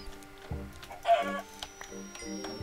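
Fowl cluck in the video game ALIVE II, with several short, close clucks scattered over a steady game background hum.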